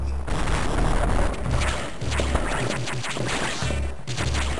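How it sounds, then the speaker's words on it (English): Explosions in the Metroid Fusion video game sound as repeated deep booms and crashing bursts, loud and close, following one another over a few seconds with a rumbling low end. "I just heard an explosion of some kind."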